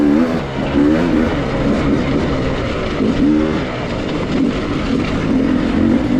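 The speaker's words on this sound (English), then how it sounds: "James Flynn giving Cody Webb a rev, looking for the pass here" Dirt bike engine revving hard during a King of the Motos 2025 race as a rider closes in to pass, a loud continuous rasping drone with rising and falling pitch sweeps, close and alone.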